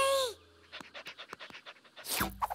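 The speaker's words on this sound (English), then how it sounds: "Oh, hello, Mr. Doggy. A dog!" A cartoon dog pants in quick rhythmic bursts, about a dozen short breathy puffs in a row, between brief sound effects at the start and end.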